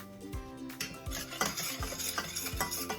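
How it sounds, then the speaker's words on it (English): Flour is stirred into melted butter in a pan for homemade macaroni and cheese, with repeated scraping strokes of a utensil against the pan, soft clinks and a faint sizzle, close and steady, with no talking. "I'm going to stir it into the butter"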